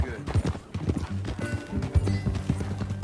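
Horse hooves clip-clop in the video game Red Dead Redemption 2, a steady walking rhythm up close, with voices talking over the hoofbeats.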